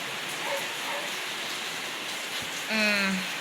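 Rain falling steadily as a soft, even hiss throughout, with a brief tonal whine near the end.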